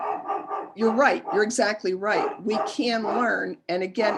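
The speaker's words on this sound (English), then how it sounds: "and I apologize for my dog." A dog barks at a bird out in the yard, its barks and yips sitting in the background beneath continuous, close conversational speech.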